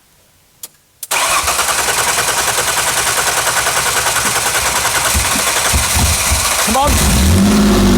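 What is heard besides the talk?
car engine starting and revving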